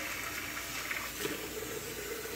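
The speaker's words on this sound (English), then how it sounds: "you're going to turn on the water and you're going to fill up the bowl" Tap water runs steadily into a bowl, a constant close splashing hiss with no pauses and no voices.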